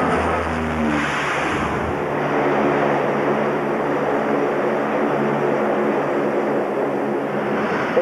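A jet aircraft roars in a continuous loud rush of engine noise and wind while landing on an aircraft carrier at sea, steady throughout with no pause.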